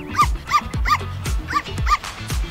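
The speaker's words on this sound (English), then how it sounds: "You take that dog everywhere" A small dog barks repeatedly in short, evenly spaced yips, about five or six sharp barks close by and fairly loud, with no talking.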